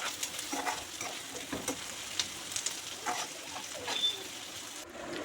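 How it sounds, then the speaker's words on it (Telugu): Onions fry in a pan while being stirred toward golden brown for an egg fry dish, giving a quiet continuous sizzle with repeated soft spatula scrapes. "ఇలా మధ్య మధ్యలో కలుపుకుంటూ గోల్డెన్ బ్రౌన్ కలర్ వచ్చే వరకు వేయించుకుందాం."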